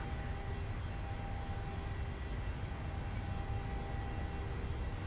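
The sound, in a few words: PMDG 737-800 takeoff roll in a flight simulator game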